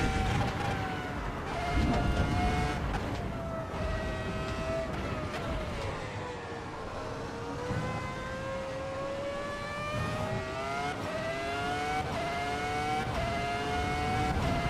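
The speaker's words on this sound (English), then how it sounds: "Oh, this car sounds so sweet." A race car engine in the racing game Assetto Corsa Evo roars steadily and loudly, its pitch climbing and dipping through gear shifts and corners, with a rough rumble underneath the whole time.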